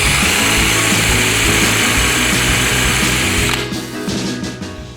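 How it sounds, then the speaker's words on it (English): A power drill with a countersink bit bores into a wooden desk bracket, a loud steady whirring grind for a few seconds that then winds down and stops, with no talking. "Bore a quick hole in countersink."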